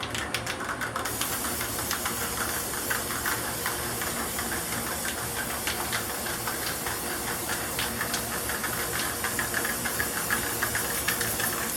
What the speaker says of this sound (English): Never spray this stuff inside, but I'm going to use the clear lacquer finish.